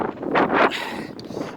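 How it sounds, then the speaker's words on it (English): Outdoor wind buffeting a microphone in strong, low rumbling gusts that swell twice early on and then settle into a softer steady blow, with no talking. "I hope I can be heard because of the wind."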